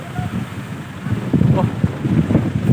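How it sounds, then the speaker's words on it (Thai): Strong wind gusting outdoors over a muddy field gives a steady rumbling buffet across the microphone, rising in the second half. "วันนี้ลมแรงมากครับ"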